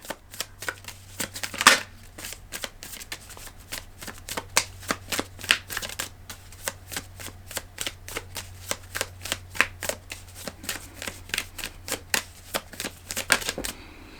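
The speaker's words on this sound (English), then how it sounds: "I'm going to pull one card here for you from the Apothecary deck." An Apothecary oracle card deck being shuffled by hand, a long run of quick riffling card snaps in steady bursts, close and fairly quiet under a low background hum.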